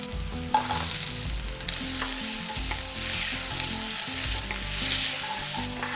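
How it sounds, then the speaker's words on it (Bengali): Potatoes and onion fry in a pan for a fish curry, giving a close, continuous sizzle broken by scraping stirs. Soft background music plays throughout. "আলু পেঁয়াজটাকে হালকা একটু নাড়াচাড়া করে নিয়েছি 2 মিনিটের মতন।"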